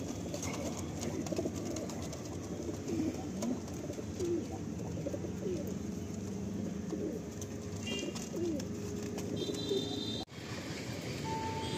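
Madrasi pigeons in a full loft coo steadily at feeding time, a dense layered murmur of soft throaty calls close by, with occasional chirps and light rustling throughout and no talking.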